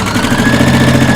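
A sewing machine runs stay stitching along the neckline of a ruffle sleeve top, a loud, rapid mechanical chatter of needle strokes with a steady whirring motor tone, close and continuous for a brief burst.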